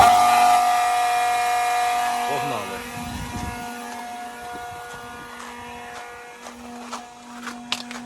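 An electric 220-volt fuel transfer station pumping diesel for an MTZ 892 tractor runs with a steady droning hum, fading slightly over time, while someone briefly speaks over it.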